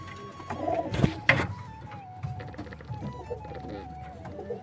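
Pigeons coo softly inside their coop, low rolling calls repeating under someone talking nearby, with a few wing flutters and scuffles.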